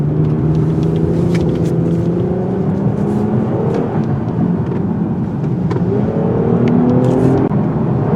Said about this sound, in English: I'm very impressed the way this vehicle is sticking to the road on tight corners.